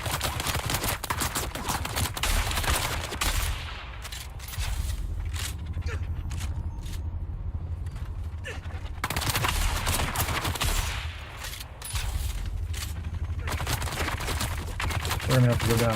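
Rapid gunfire in the video game Dune Awakening, dense bursts of shots and fusillades running almost continuously at steady loudness, with brief quieter gaps between volleys.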